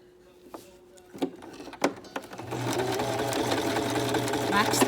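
A sewing machine backstitches over elastic on a homemade fabric face mask, starting with a few slow, separate clicks and thumps and then settling into a fast, steady mechanical whir up close.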